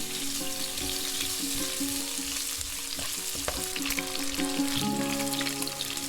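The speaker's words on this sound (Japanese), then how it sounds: "フライパンに油を敷いてサムギョプサルを炒めます。" Slices of pork belly (samgyeopsal) fry in oil in a pan with a steady, close sizzle and crackle, with occasional stirring scrapes running throughout and no voices.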